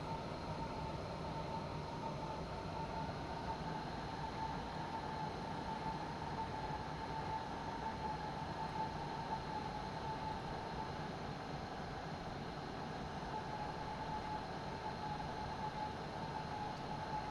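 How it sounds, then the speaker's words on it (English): An RE30 regional train in a train simulator game, braking as it runs into Nürnberg Hbf on the Pegnitztalbahn, gives a steady, even rolling rumble with a faint sustained tone throughout and no talk. "I need to put those brakes on a bit heavier again now because I'm coming in faster than I wanted to"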